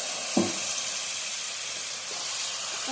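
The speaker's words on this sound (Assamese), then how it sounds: "এতিয়া অকণমান এইখিনি ভালদৰে ভাজি লৈছোঁ।" Masala frying in a pan for a potato pakora gravy gives off a steady, close sizzling hiss throughout, with a brief louder crackle near the start.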